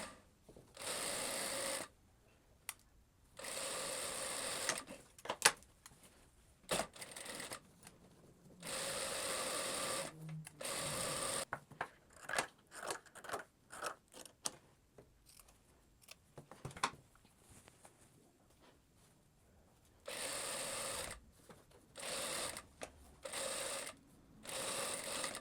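A sewing machine stitches a French seam along the sides of a skirt ruffle in bursts of rapid, close mechanical whirring, separated by quiet pauses and small handling clicks.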